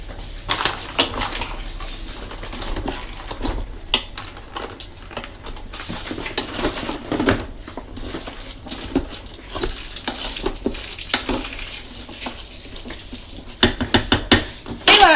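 A utensil scrapes and clatters around inside a pot as pasta with ham and courgette is stirred, with irregular knocks and rattles continuing throughout and growing busier toward the end.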